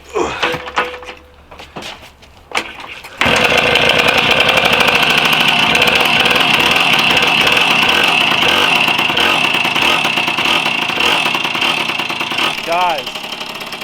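Engine cold start after years of neglect: a few cranking attempts and clunks, then the engine fires and settles into a loud, rough, pulsing idle close by, with people talking under it.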